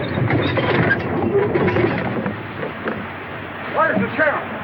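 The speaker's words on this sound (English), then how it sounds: "Was that train making enough noise?" Rumbling, clattering train noise fills the clip, with rolling rail sounds and a few higher squeals near the end, mixed with indistinct voices.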